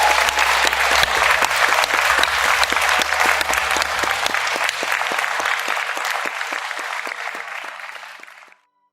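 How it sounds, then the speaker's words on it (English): Sustained audience applause at the Talent Search Cymru 2023 talent show for Eloise and Paul: dense, steady clapping from a large crowd lasting about eight seconds, tapering slightly before stopping abruptly. "can we just have one more round of applause for Eloise and Paul?"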